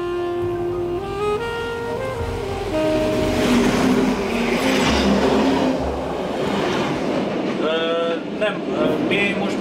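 A blue special train, the Blauer Blitz, runs along a single-track railway line in Burgenland, a steady rolling rumble with some clatter heard close and continuous, with brief voices over it.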